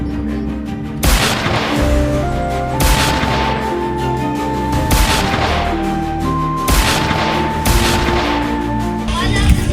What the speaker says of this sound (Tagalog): bigla nilang marinig ang maraming putukan